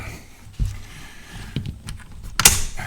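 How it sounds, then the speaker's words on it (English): A Mosin Nagant 91/30 rifle bolt slides and clicks with a few short metallic scrapes and a sharper final clack, close up in a quiet room. "in order to get the bolt out, you actually have to pull the trigger as you're sliding the bolt back"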